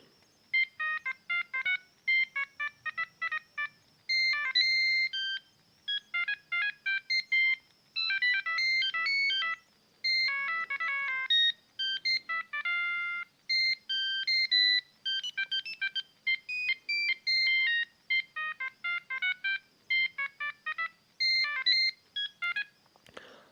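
Simple beeping ringtones from a 2004 Siemens CX65 mobile phone play in quick succession. Short clipped electronic tone patterns repeat in bursts with brief pauses between them, loud and clean.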